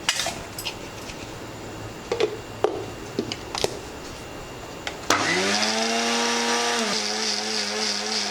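A mixer grinder whirs loudly, grinding spinach for palak paneer. A steady motor roar kicks in abruptly midway and runs continuously after a few light kitchen clatters.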